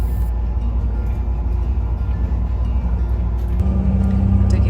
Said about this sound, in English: we walked into this little village and hitched a bus into the proper town